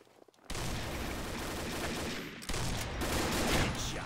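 Rapid bursts of automatic gunfire from the online shooter Combat Arms ring out loud and continuous after a brief quiet start, with a short break midway before the volley resumes.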